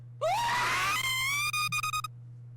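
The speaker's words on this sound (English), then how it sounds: "there's a scream in there" A single loud scream in a video game, rising in pitch and then holding for about two seconds before breaking off, over a steady low hum with no talking.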